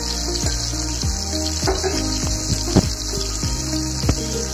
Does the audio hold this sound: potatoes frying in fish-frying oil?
yes